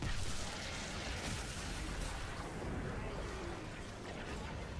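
Sustained gunfire and booming blasts in the Destiny 2 raid Salvation's Edge, a dense, continuous barrage with no clear gaps, moderately loud and steady throughout.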